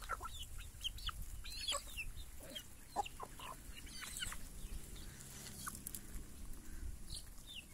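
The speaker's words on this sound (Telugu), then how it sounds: "ఇవన్నీ మా కోళ్లే మిత్రమా." Hens at a village farm cluck softly while pecking at scattered feed, with scattered short clucks and pecks overlapping at a modest distance, faint and continuous.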